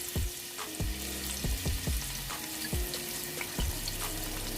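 Finely chopped onions frying in oil for a spicy pasta, a soft continuous sizzle punctuated by repeated stirring scrapes from a spoon against the pan.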